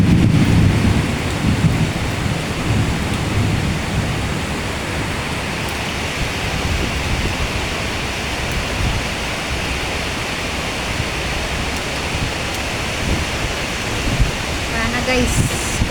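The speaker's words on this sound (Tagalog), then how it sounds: "grabe lakas ng ulan" Heavy rain pours down steadily in Malaysia, a dense, loud roar of downpour that fills the whole stretch without a break, with a faint rumble underneath.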